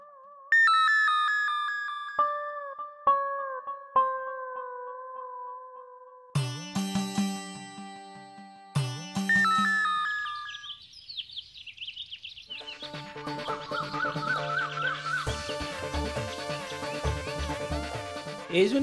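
A mobile phone ringtone plays as a melodic electronic chime, repeating in short phrases and swelling into a busier, louder tune with layered tones, heard alone with no talking.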